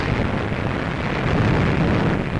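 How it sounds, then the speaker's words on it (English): Heavy naval barrage from hundreds of warships off the Normandy coast during the D-Day landing, a continuous loud rumbling roar of blasts with no gaps, dense low booming throughout. "500 warships lay down a withering barrage"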